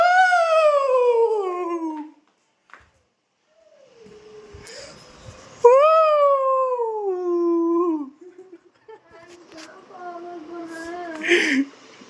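Young puppies whine and cry in high, wavering, repeated wails, loud and close, with short pauses and faint speech-like noise between cries.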